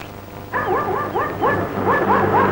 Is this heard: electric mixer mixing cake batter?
no